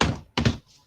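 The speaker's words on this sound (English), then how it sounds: "So I banged the table because I loved that finish" A hand bangs on a table twice in quick succession, close and loud thumps following an earlier thud, then a brief quiet tail.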